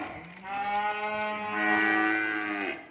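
Cattle at a cow farm in Vietnam low, drawn-out moo, a steady harmonic call lasting nearly three seconds, loud and close, with no talk over it.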